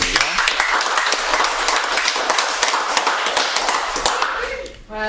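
Dense, steady audience applause fills a hall during a film discussion event, many hands clapping close and loud throughout before fading out at the end.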